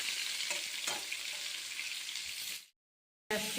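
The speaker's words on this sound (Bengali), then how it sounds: "তারপরে এবার মাংসটা কষছে" Meat sizzles steadily as it is sautéed with spices in a pan, with a few faint stirring clicks; the frying cuts out into brief silence near the end, then resumes.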